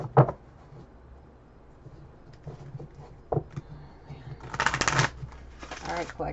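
Moonology oracle cards are shuffled, giving short papery riffles and flutters close by, strongest in a burst toward the end, with a voice speaking intermittently between them.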